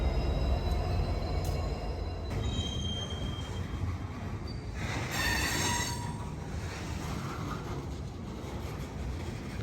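A freight train with a caboose rolls slowly through Salem Yard, wheels grinding and squealing steadily at moderate distance, with brief high metallic screeches over the rumble.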